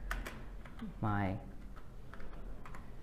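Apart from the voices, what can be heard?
typing on a Dell USB keyboard connected to Android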